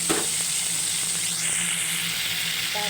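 Bagoong shrimp paste cooking in a pan over low heat for a mung bean dish, a continuous close hissing sizzle with a faint click at the start.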